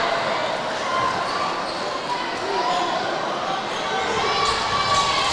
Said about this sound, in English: Now the crowd comes unglued.